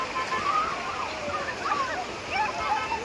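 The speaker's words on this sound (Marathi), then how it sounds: "खरंच पाण्याचा फ्लो एवढा आहे ना मित्रांनो, बघू शकताय." Strong river current flows in a continuous rushing wash of water, with people's voices and faint tonal calls riding over the steady noise.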